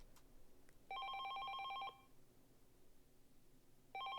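Electronic telephone ring in the video game 428: Shibuya Scramble: a bright trilling warble lasting about a second, a pause, then the ring starting again, clean and loud over a faint background.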